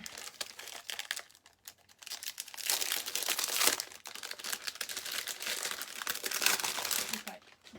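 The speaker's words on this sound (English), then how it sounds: "If I get it out of the plastic." New tape is unwrapped from its plastic packaging with close, loud crinkling and crumpling that comes in bursts across several seconds.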